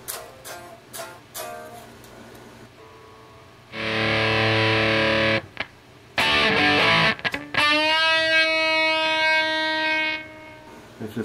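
Electric guitar through a Tonebender MK1 clone fuzz pedal: a few quiet plucks, then loud buzzy fuzzed chords held for a couple of seconds each, with a final sustained note fading out.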